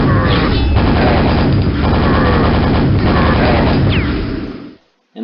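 The super nail gun in Quake fires a loud, dense, continuous rattle of rapid shots that runs for several seconds before stopping abruptly, with brief metallic squeals mixed in.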